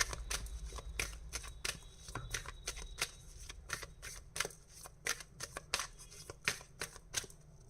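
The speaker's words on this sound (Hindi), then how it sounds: "सो एरीज, लियो, सैजिटेरियस, तीनों के लिए कार्ड्स मैं निकालूंगी।" Tarot cards are shuffled and drawn close by, producing a rapid run of crisp snaps and flicks in an uneven rhythm over a quiet background.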